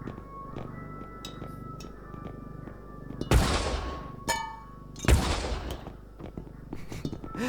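Two loud, sharp gunshot bursts from the video game R.E.P.O., a couple of seconds apart, each followed by a brief ringing tail, over a steady low hum and clicky background.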